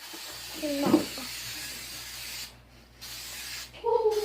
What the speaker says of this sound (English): I'm gonna spray some coconut oil so then they won't stick to the cookie sheet